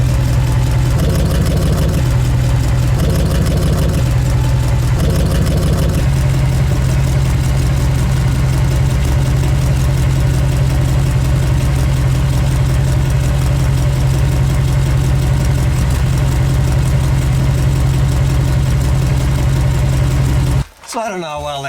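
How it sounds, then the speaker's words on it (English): A car engine idles after an exhaust leak repair, humming steadily and loudly up close with a few brief revs at first, ending in a sudden thump. "I'll start it up and see how it sounds and take it for a ride."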